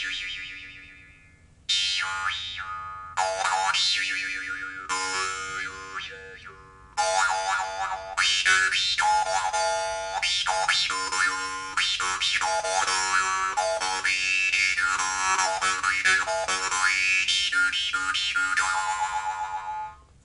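Dan Moi jaw harp cut with two tongues, plucked in twanging bursts with shifting vowel-like harmonics and a steady drone, played close and fairly loud with no talking.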